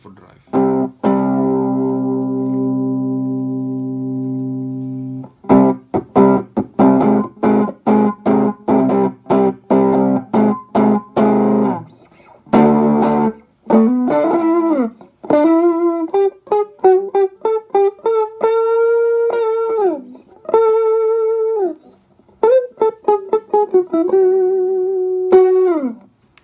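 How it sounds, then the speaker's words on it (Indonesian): An electric guitar plays through an overdrive distortion effect: a sustained chord, then choppy muted strums and bright, singing bent lead notes in neo-classical style, loud and close with pauses between phrases. "Kita coba sekarang kalau pakai distorsi."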